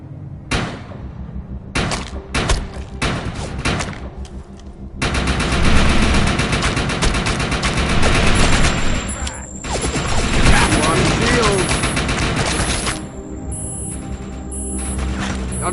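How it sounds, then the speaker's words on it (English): Heavy video-game gunfire, broken bursts at first, then sustained rapid automatic fire for several seconds, loud and close, with some clanking impacts. "I'm taking fire!"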